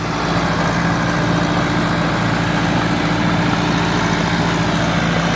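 An ATS 290 blue tractor engine runs steadily at 1500 RPM, likely hitched to a rotavator, giving a continuous loud, low idling drone with a constant hum throughout and no talk.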